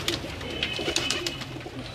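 Several Salare Teddy pigeons keep up soft, overlapping cooing, a steady low burble close at hand.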